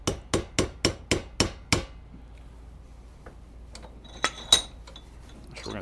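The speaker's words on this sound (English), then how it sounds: "I'm going to take our easy out. Tap it down in there." A hammer taps an easy out into a broken jet on an Amal 930 carburettor, seven quick, evenly spaced sharp metallic raps, then quiet and a couple of scattered clinks.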